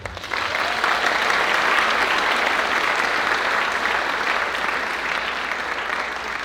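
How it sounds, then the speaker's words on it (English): A large audience at a school district State of the District gathering breaks into sustained, dense applause, loud and steady for several seconds before easing slightly toward the end. "we can give them all a round of applause"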